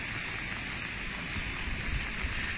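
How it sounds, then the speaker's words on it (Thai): Steady rain falls in an even, continuous hiss, dense and unbroken throughout, with a soft low rumble beneath and no voices. "ฝนยังตกเลยทั้งเวรทั้งคืนฝนเนี่ย"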